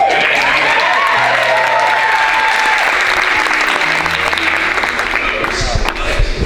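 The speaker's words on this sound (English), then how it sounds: "Okay, yeah, you can clap if you want." Wedding guests applaud at the Wadsworth Homestead, a steady, dense wash of clapping from a full room lasting throughout, with a voice murmuring faintly underneath.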